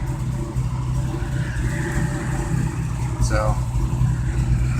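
A '78 Chevy K-10 truck engine runs steadily after being warmed up for several minutes on a hot 90-degree day, a low continuous rumble sitting under a voice.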